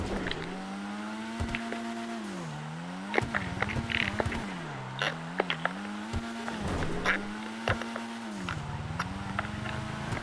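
A car drifts in the GTA 5 video game: a revving engine rises and falls in wavering sweeps while tires screech and skid, with sharp knocks and clatters scattered throughout.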